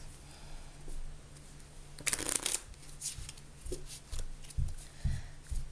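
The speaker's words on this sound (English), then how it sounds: "so I'm just gonna give the cards a shuffle" A deck of playing cards being shuffled by hand, with a crisp riffling burst followed by softer flicks, taps and handling noises, fairly quiet and close with no talk.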